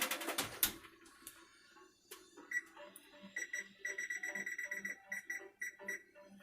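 An oven timer being set in a home kitchen while baking, with a burst of rapid clicks and then a quick series of short beeps as buttons are pressed, faint and close.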